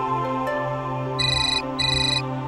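Phone ringtone chiming in two short bursts of bright, pulsing tones over a dense background of music and hum.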